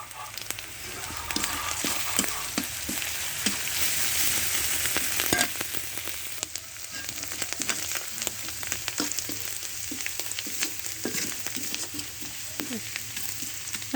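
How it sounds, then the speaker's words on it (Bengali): Garlic and onion frying in a pan with oil, a dense continuous sizzle with rapid crackling and occasional scraping of a spatula, close and steady with no talking. "রসুন পেঁয়াজ ভাজা হয়ে গেছে"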